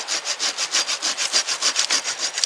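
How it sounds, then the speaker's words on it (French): A folding Silky Gomboy hand saw rasps back and forth through a small dead branch in quick, even strokes, about a dozen regular pulls close up with no talking. "c'est une petite branche morte que je vais venir couper."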